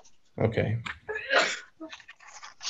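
Someone sneezes once, loudly and close to the microphone, during an online community meeting, just after a voice says a brief word.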